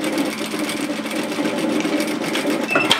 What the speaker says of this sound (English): then we're just going to sew an edge stitch to shut that opening